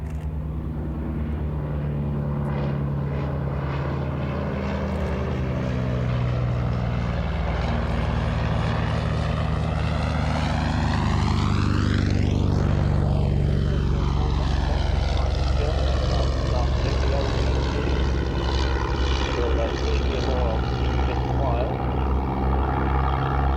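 A vintage LVG C.VI German biplane flies past with its propeller engine droning steadily, swelling loud as it passes overhead and then pulling away with a falling pitch, sustained throughout the flight.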